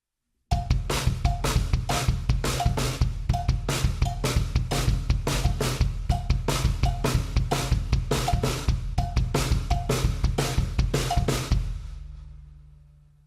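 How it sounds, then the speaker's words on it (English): A drum beat with steady quarter notes on a cowbell over kick and snare, developed from an earlier groove, a dense and even pattern that plays close and alone before stopping abruptly. "So I will do quarter notes on the cowbell, and I create a new sound, a new beat with that"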